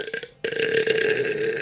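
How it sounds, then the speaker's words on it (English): A long, loud burp that starts after a short stuttering onset and then holds steady for more than a second, close to the mic, with no talking over it. "I'm surprised you're not burping"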